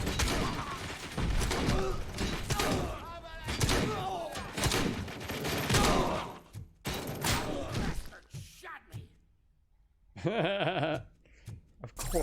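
Gunfire in the video game Robocop: Rogue City: several loud, broadband blasts and bursts, with a short quiet gap before more shots, mixed with game noise and a voice.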